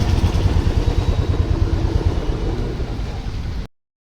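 Motorcycle engine running steadily up close while riding into a petrol station, a continuous loud rumble that cuts off abruptly near the end.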